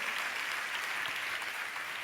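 Applause from a church congregation during a sermon: steady, dense clapping from many hands that holds evenly throughout, with no voices above it.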